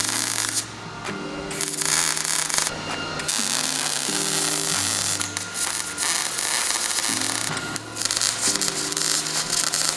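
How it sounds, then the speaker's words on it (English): Electric tack welding on the body of a 40-year-old Porsche by a first-time welder, giving a steady close buzzing crackle broken by short pauses, with a low engine-like drone running underneath. "This is my first time welding."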